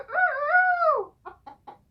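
A chicken held in a radio studio gives one long, drawn-out call and then four short, sharp clucks in quick succession, loud and close to the microphone, with nobody talking.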